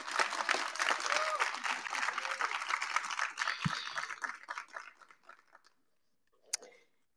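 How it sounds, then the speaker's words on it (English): A crowd at a university nursing pinning ceremony applauds the graduating nursing class, a full burst of clapping that gradually thins and fades to near silence, followed by a brief faint knock. "please give them a big round of applause."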